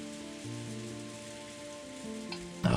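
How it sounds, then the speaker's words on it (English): Soft, steady rain patters in a visual novel game, a continuous gentle hiss under layered held music tones, with a brief louder rustle at the very end. "she was wrapped up in the soft sound of the rain"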